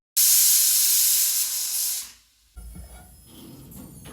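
Pressure cooker with rice letting out a loud, close, sustained steam whistle for about two seconds, which then dies away into quieter kitchen noise.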